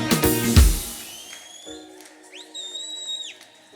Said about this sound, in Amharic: ጩኸት እልልታ ፉጨት ለጌታ ክብር ይሁን።